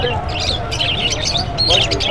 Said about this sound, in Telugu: ఇక్కడ చూడండి చిన్న పక్షులు